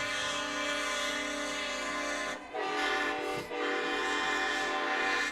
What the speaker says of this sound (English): they're going to blow that train horn